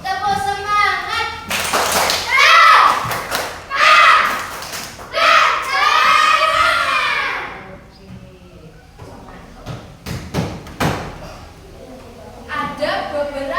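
A fourth-grade class does a rhythmic spirit clap twice, with loud unison hand claps and children's chanting voices. Each round ends in a string of sharp claps, and an adult voice speaks in between.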